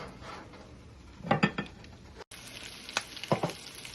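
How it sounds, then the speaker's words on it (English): Chicken cordon bleu crackles and sizzles in a hot pan over medium heat, with a couple of louder bursts of stirring or scraping against the pan. "You can hear that sizzling cooking up."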